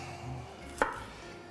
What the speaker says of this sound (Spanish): Mientras, voy a ir picando la cebolla.